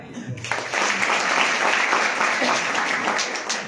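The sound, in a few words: seminar audience applause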